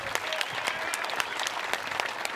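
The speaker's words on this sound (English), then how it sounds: "Let's give a big round of applause for this shoot round." Spectators at an archery shoot-off break into applause, a short burst of brisk, distinct claps with sharp individual hits standing out over a steady patter.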